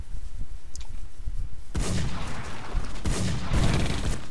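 Gunfire in the Minecraft server game LineZ during a gun duel, heavy booming blasts in quick bursts, loud and near, after a quieter stretch with faint background sound.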